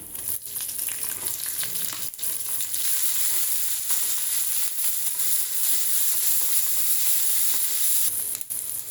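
Onions fry in a pan with a steady, bright sizzle held close and fairly loud, broken by a few brief stirring dips, and no voices.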